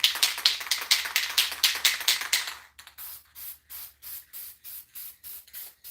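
Solvent-based finish sprayed onto a handmade wooden dough bowl in rapid short bursts, a loud close hiss at first, then a run of evenly spaced, slightly softer spray pulses.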